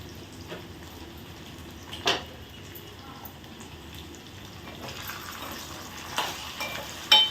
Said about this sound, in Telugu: కొంచెం వేగుతున్నాయి.